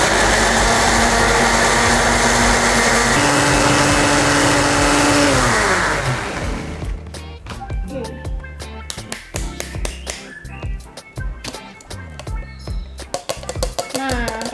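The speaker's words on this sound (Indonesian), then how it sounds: "Oke, kita blender." Kitchen blender whirring at high speed through ingredients soaked in water, a loud steady motor whine that stops midway, followed by clattering and tapping sounds.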